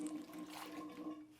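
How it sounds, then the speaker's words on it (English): Water is poured onto the soil of a potted houseplant, a steady close trickle and gurgle continuing throughout without pause. "when you put water in your pot"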